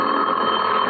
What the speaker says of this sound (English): was almost asleep when my phone rang